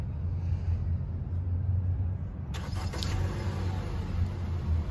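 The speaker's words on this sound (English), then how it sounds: "And with this key, you can remote start it." A Honda Civic EX started by remote key fob: a low engine hum runs steadily, and midway a brief cranking burst leads into a settled idle.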